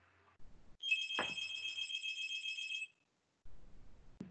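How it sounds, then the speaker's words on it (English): A house landline telephone rings indoors, sounding as a long electronic trill of about two seconds, a brief silence, then the start of another ring, loud and close with no talking. "Okay, that must be somebody's phone. Yeah, it's our house phone."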